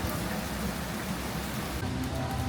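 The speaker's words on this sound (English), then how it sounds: "And the rain starts once again." Steady rain falling at Busch Gardens theme park in Florida: a continuous, even wash of dense patter, fairly faint and unbroken, with no talk.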